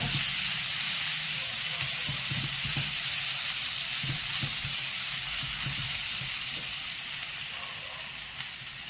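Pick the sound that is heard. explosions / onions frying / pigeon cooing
onions frying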